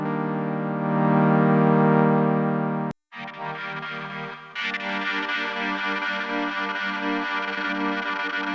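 A simple synth tone played through the AIR Ether multi-effect on an MPC, first a loud steady buzzing drone, then after a brief cut a chopped, gated texture with delay and reverb rising partway through.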